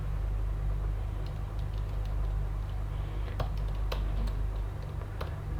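Close keystrokes on a computer keyboard, a few sparse clicks scattered over a steady low hum, with a couple of quick taps clustered near the end and no talk.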